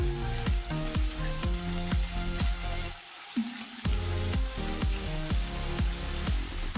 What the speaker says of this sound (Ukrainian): Викладаємо смажитись наші стейки.